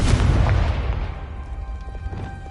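A heavy booming blast from the Confringo spell in Hogwarts Legacy erupts loud and close, then rumbles and fades over a couple of seconds with faint shimmering debris.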